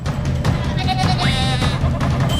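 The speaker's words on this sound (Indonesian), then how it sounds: "Si anak domba ditangkap oleh paman." A young lamb bleats repeatedly in wavering cries while being caught and handled by a man, heard close over steady rustling and background noise.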